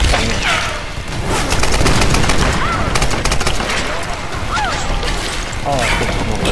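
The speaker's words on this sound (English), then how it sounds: "Who else is shooting me?" Rapid, dense gunfire from the video game Tomb Raider Definitive Edition, with loud overlapping bursts and shots running continuously throughout, mixed with other game effects and a voice.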